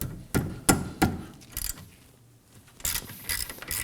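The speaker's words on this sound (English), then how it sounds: "using a 14mm socket, go ahead and remove both of these bolts" Ratchet turning a 14mm socket on caliper bracket bolts of a Kia Sorento, a few close, sharp clicking and clanking bursts with short pauses between them.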